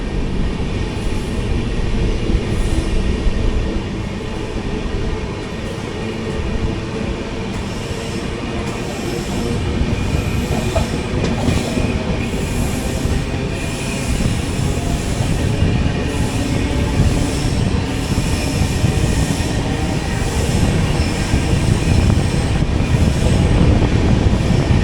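The 22207 Chennai–Trivandrum AC Superfast train runs steadily and loudly from inside, with rumbling wheels, rhythmic clickety-clack over rail joints and occasional squeals, continuous throughout with no talk.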